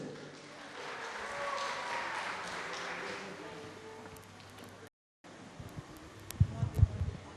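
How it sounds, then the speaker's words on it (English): An audience at an annual meet applauds a performer after a song, a broad wash of clapping that swells and then fades, followed by a brief silence and then a few closer, louder claps and knocks. "Please give a round of applause for Benjamin one more time"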